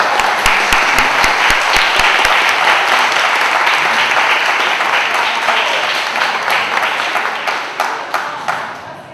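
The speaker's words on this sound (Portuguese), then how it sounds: "eu gostaria de pedir para a plateia uma salva de palmas" An audience delivers a loud, sustained round of applause, dense clapping that holds steady for most of the stretch before tapering into scattered individual claps at the end.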